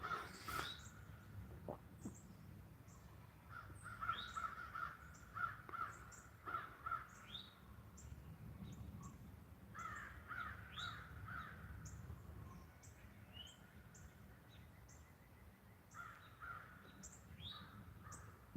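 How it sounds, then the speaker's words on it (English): Repeated crow caws ring out from a distant hill, scattered across the stretch with softer chirps and faint outdoor ambience beneath. "Bunch of crows over there on the hill."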